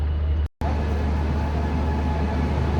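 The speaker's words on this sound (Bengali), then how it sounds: "দুপুর দেড়টার সময় এইমাত্র ট্রেন আসানসোল থেকে টাটানগর এসে পৌঁছালো" Asansol–Tatanagar express train at Tatanagar station, a steady loud rumble of rolling coaches with a brief dropout near the start.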